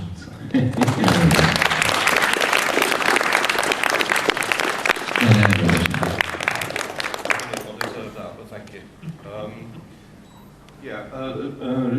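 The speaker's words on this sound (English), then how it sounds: "We're spending a bit of time with some applause." Audience applause fills the room at the Timeslip "Behind the Barrier" DVD launch in 2009. Loud, dense clapping holds for about eight seconds while voices murmur underneath, then it fades and a voice speaks near the end.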